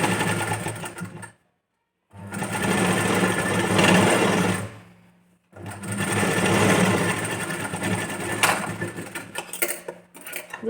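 A sewing machine runs in two long bursts, stitching a folded strip at the joint of a princess-cut boat-neck blouse, with a brief pause between runs. The motor is steady, close and loud, and nobody speaks.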